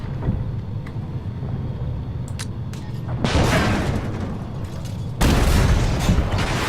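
Tank cannon fire in the Armoured Warfare video game: two loud, booming blasts a couple of seconds apart that break through a constant rumbling battlefield and engine noise.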